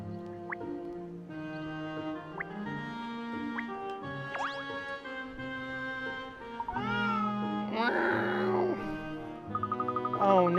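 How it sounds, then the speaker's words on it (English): A cat meows repeatedly in Layton's Mystery Journey, several short mews over gentle game music, with a longer drawn-out cry near the end. "A cat. Over there."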